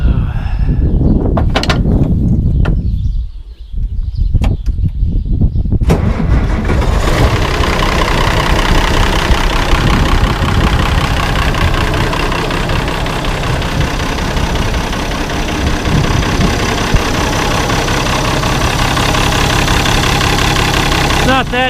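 An engine on farm equipment cranks briefly with a few uneven bursts, then catches and settles into a steady, loud, rumbling idle that continues throughout, with voices talking over it.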